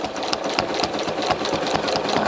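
A sewing machine stitches steadily during free motion quilting, its fast even needle rhythm running close and loud with no other sounds.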